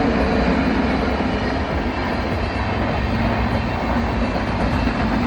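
A train rolls past on a railway track close to Nedumbassery airport, a dense continuous rumble and clatter of wagons filling the whole stretch at close range, with no voices.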